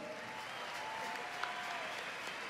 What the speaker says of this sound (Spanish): Fuerte aplauso para ustedes.